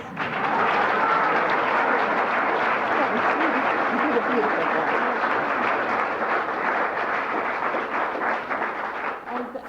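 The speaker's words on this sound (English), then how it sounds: "So please give her another round of applause." An awards ceremony audience applauds an honoree in a continuous wash of clapping that stays loud and even throughout, with a faint murmur of voices mixed underneath.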